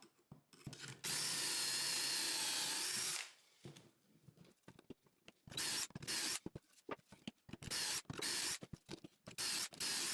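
A power drill boring pocket holes in 2x3 lumber for a workbench, long loud whirring bursts that start and stop between quieter gaps, close by.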